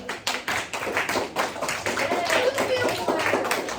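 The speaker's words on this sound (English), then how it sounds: "Give her a clap." Students in a classroom clap for a classmate, a moderately close burst of many hands with distinct rhythmic slaps that keeps going steadily without pause.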